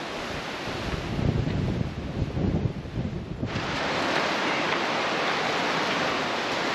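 Gusty wind blows outdoors on a hillside walk, buffeting the microphone in uneven bursts at first, then settling into a loud, steady rushing roar with no voices.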